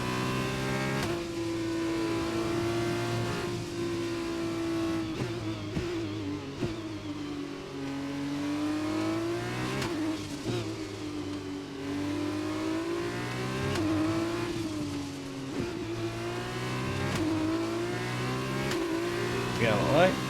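An F1 race car engine under throttle in F1 2021 drones and revs continuously, pitch rising and falling through gear changes, a sustained mid-loud whine throughout.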